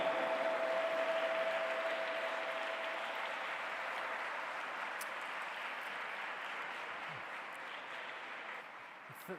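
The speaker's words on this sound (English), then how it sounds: "Please put your hands together and welcome, with a round of applause" An audience at the G20 Interfaith Summit applauds a speaker's introduction with steady, dense, even clapping that slowly fades toward the end.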